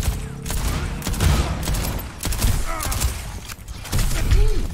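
Scattered gunfire in The Wizard video game, several sharp shots and bursts amid busy game sounds and rumbling, fairly loud, with no clear talk.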